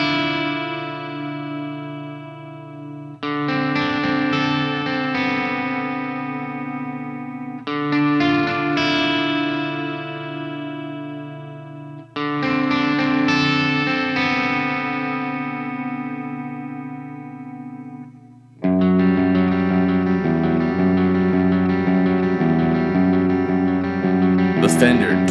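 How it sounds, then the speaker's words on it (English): Electric guitar played through a Fender Dual Marine Layer reverb pedal, sustained chords ringing with long washy tails, several strummed phrases each decaying into reverb, with a fuller, brighter chord section at the end. "Fender dual marine layer reverb."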